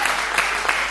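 Audience applause on a Greek television talent show, a steady dense wash of many hands clapping close and loud throughout, with no voices over it.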